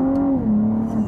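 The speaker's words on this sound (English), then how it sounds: "All those gear shifts are lightning quick." A supercar in Dubai accelerates away, its engine note climbing then dropping as a lightning-quick gear shift comes through in one brief, strong burst.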